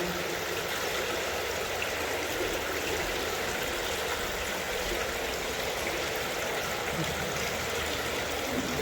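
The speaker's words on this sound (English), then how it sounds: "this is where he would sleep under his fountain, constantly giving noise" Water from a fountain at Topkapi Palace in Istanbul, Turkey flows and splashes steadily, a constant close rushing sound with no pauses.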